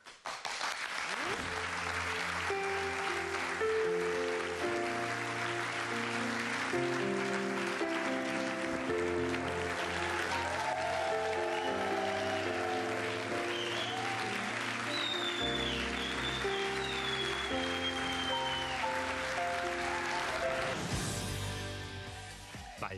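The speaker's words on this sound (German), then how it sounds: "Applaus." Studio audience applause on a German daytime talk show swells under a loud, bright musical jingle with stepped melodic notes, the clapping and music running together for over twenty seconds before the music drops out near the end.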